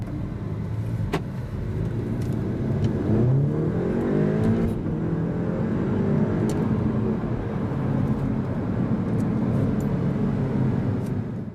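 A 2014 Audi S3 Saloon accelerates hard from inside the cabin, a loud steady engine drone climbing in pitch through the gears for about ten seconds, with no talking.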